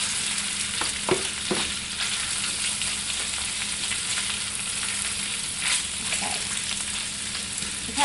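A kohlrabi dish with sharp cheddar cheese cooks down in a pan, giving a steady close sizzle with occasional stirring scrapes and small pops, continuous and even throughout.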